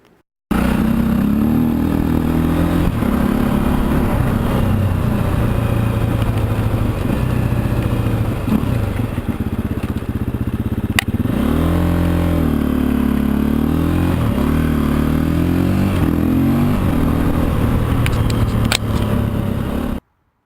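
A KTM 250 EXC-F motorcycle ridden off-road on a green lane, its engine droning steadily and loudly throughout with revs rising and falling as it accelerates and shifts, no talk.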